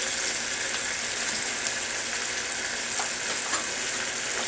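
Beans frying in a pan while being mixed, a steady loud sizzle with faint scraping from the stirring spoon, close and continuous with no talking.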